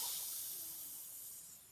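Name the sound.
child imitating a snake hiss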